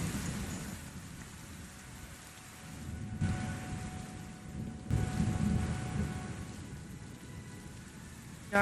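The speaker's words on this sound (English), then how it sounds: "you hear in the distance rolling thunder start to come in" Distant rolling thunder with steady rain on a stormy night by the sea, low rumbles swelling in two waves over a continuous hiss of rainfall, no voices.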